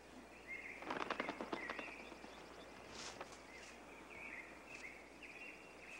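A rapid burst of wing flapping from a male bird's flutter flight display, a quick whirring flutter lasting about a second, followed by scattered bird calls over quiet forest background.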